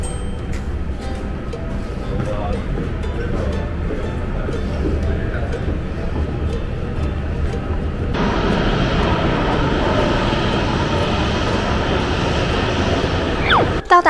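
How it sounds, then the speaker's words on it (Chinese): Continuous roar of airplanes taking off and landing at Jeju airport, heard from an observation deck, swelling louder partway through, with faint voices in the background. "这里还有个瞭望台，可以看到飞机起飞和降落哦。"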